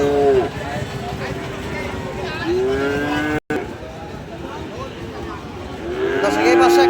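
Cattle at a busy cattle market, including Holstein Friesian bulls, moo in long low calls, several of them close by, with the bustle of the crowd and talk going on underneath.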